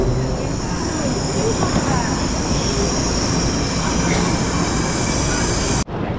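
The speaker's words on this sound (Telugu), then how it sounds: "ట్రైన్ ఆల్రెడీ వచ్చింది అనుకున్నట్టున్నారు." A train arrives at a busy station in China with a loud, continuous rumble and a thin, high squeal. Crowd noise adds to the din before it cuts off abruptly near the end.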